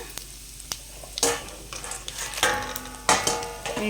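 Cumin, chana dal and dried red chilies frying in hot oil: a steady close sizzle broken by sharp crackling bursts and occasional stirring scrapes, loudest in several spurts as the spices hit the pan.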